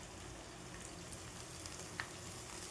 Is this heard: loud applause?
no